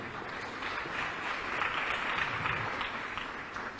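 Steady applause from an audience at an International Civil Aviation Day celebration held by the Transport Department, a soft, even wash of clapping that carries on throughout at a moderate distance.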